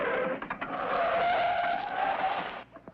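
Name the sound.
plane skidding to a stop near a cliff edge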